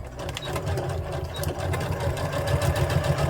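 A sewing machine stitches and backstitches overall pants fabric at a regular stitch length, a steady, close mechanical whir with a dense low rhythmic hum running continuously and unbroken by speech.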